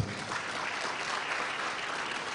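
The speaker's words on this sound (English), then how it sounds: "So clap for yourself" Attendees at an online-branding e-learning week session applaud themselves, a continuous wash of many hands clapping at a steady level for a couple of seconds, with no talking over it.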